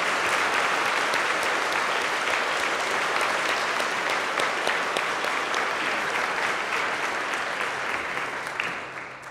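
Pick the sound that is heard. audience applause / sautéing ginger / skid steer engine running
audience applause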